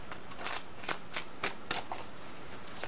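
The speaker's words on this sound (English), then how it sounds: "This deck is really slippery and really huge, guys, so I always have a hard time shuffling." A large, slippery tarot deck is shuffled by hand, with close, crisp bursts of riffling card noise repeating in a quick irregular rhythm.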